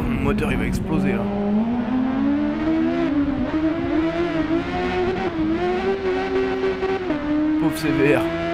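A Honda CBR900RR Fireblade engine in a racing video game screams loudly and continuously, its pitch climbing and dipping with gear changes and throttle, under a man's speech.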